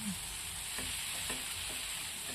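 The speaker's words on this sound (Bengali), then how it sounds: "এরপর আমি নাড়াচাড়া করব একটু" Fried potatoes for aloo dum are stirred in a hot pan: a soft continuous sizzle with a few distinct scraping stirs of a spoon against the pan, fairly quiet and close, no talk.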